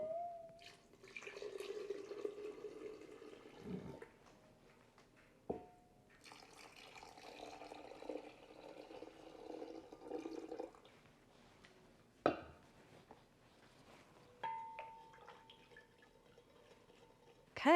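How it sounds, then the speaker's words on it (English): Cold water pours from a tap into a half-gallon pitcher of sweet tea, soft trickling and splashing in a few separate bursts with pauses between, fairly quiet and close, no talking. "And now I'm adding cold water to the rest of it."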